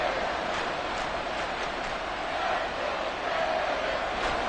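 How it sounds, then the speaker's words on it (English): A football stadium crowd roars as a continuous wide wash of cheering, steady and loud throughout with slight swells. "A big play here as the crowd noise rises"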